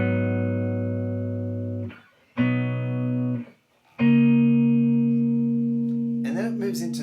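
Electric or acoustic guitar chords ring out in the intro of Robbery by Lime Cordiale, three sustained strummed chords separated by short gaps, the last joined by a brief rising slide, played alone and close with no talking.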